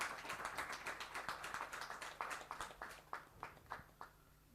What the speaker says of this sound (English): Please motivate them with a big round of applause.